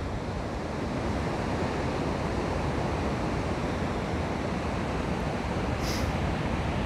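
Atlantic Ocean surf at Strandhill, County Sligo, a steady, dense roar of breaking waves mixed with wind noise, loud and continuous without voices.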